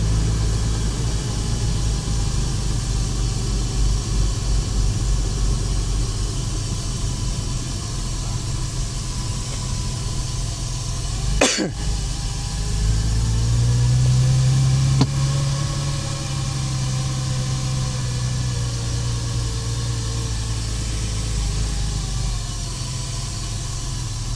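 Porsche Boxster driven in fourth gear, a steady low engine drone with road and wind noise heard from inside the cabin, with a brief sharp click partway through and a short pitch rise afterward.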